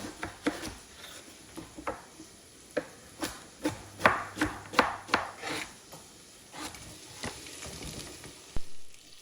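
A steady sizzle of food frying in a pan runs throughout, with a series of sharp knife chops through carrots at close range.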